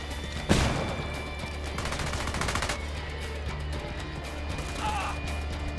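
Video game gunfire in Ghost Recon Wildlands: one sharp shot followed by a burst of rapid automatic fire, then lingering ambient battle noise at moderate volume with no clear speech.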